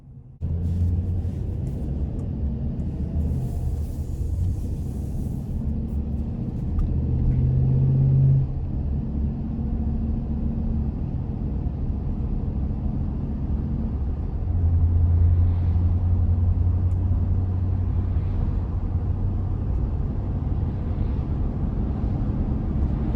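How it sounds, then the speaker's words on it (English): A 2020 Chevrolet Express 2500 Limited X-SE conversion van on the road gives a steady, close engine and road rumble with a deep low hum. Its level stays even throughout, with slight swells but no talk. "we're gonna go ahead and take this van out on the road for a test drive"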